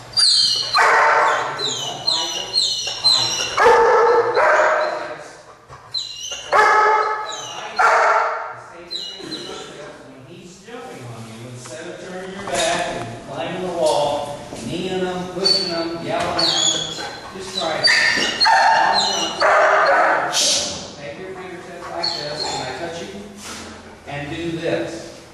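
Shelter dog barking and yipping repeatedly in close, excited bursts, mixed with whimpers, while people talk throughout.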